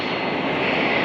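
Single-engine piston aircraft engine in flight over desert terrain, a loud continuous droning roar heard from inside the plane, steady and unbroken with no talk.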